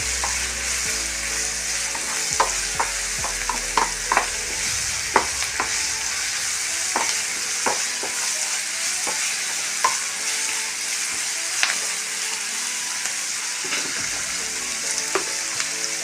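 Raw green banana pieces and half a tomato stir-frying in a pan, a continuous loud sizzle close up, broken by irregular clacks and scrapes of a spoon stirring.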